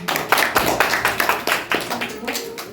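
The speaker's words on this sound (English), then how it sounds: "So please give him a big clap." Schoolchildren clap for a classmate at a Children's Day celebration, a burst of quick, uneven hand claps with rhythmic peaks, close and moderately loud, with a voice mixed in.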